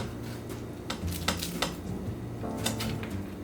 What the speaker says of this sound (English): Now I'm going to cut up some slivers of red onion because that's what it calls for.